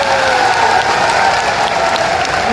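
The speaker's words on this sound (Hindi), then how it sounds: "इसलिए एक बार जोरदार तालियां बजाने वाले हैं" A large rally crowd claps loudly and continuously for a politician's victory, a dense, even roar of hands with a few cheers mixed in.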